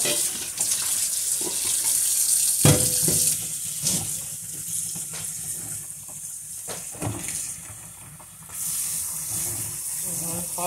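A tap runs steadily, hissing as it pours hot and cold water over freshly boiled bitter leaves in a drained pot, with splashing shifts as the stream moves.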